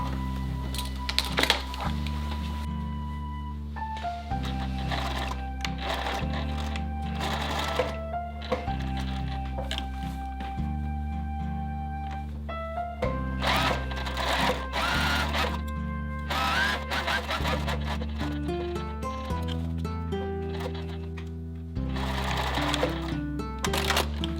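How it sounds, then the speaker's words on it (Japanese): A sewing machine stitches pocket fabric in long steady bursts of rapid mechanical stitching, pausing briefly between runs, loud and close, with no talking. "この字型にミシンで縫っていきます。"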